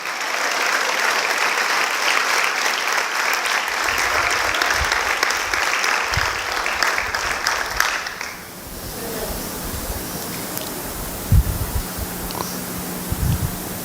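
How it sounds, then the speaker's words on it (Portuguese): A church congregation at a Pentecostal baptism service claps loudly and densely for about eight seconds, then the applause breaks off abruptly into quieter room noise with scattered low thumps. "Pode aplaudir."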